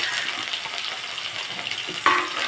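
Mustard seeds tempering in hot oil sizzle and crackle steadily at close range, with a brief louder pop of spattering near the end.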